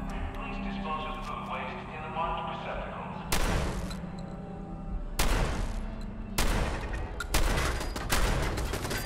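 A Mark V turret in Fallout 4 fires flaming rounds in several loud, broadband blasts and bursts, breaking over a background of game music and ambience.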